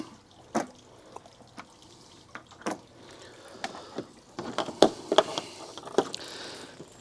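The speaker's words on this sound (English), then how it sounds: "Now I'm going to disconnect these hoses and drain the unit." Water trickling and dripping as a portable propane water heater is drained after its hoses are disconnected, with scattered splashes and drips at close range and no talk.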